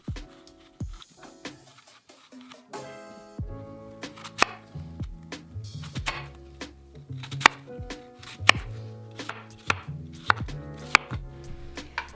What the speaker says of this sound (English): we need to peel and chop 2 sweet red apples